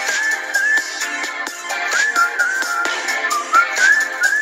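A whistled melody runs through a hip hop beat. Its bright tones wander up and down over steady percussion and backing music.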